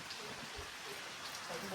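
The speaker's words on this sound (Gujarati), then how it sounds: "વરસાદ આવી ગયો છે મસ્ત" Soft, even patter of morning rain falling in a village, a faint continuous hiss with a voice speaking quietly over it.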